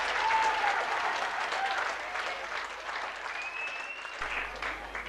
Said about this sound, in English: can we have a big round of applause for Mandy the Seal, Keith the Seal, and for Superman?